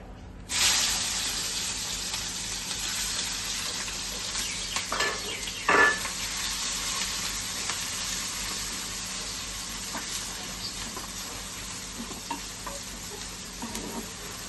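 Onion, ginger, garlic, green chili and tomato hit hot oil tempered with nigella seeds, bursting into a loud sizzle that settles into a long, steady frying hiss with occasional stirring scrapes, close and without talk.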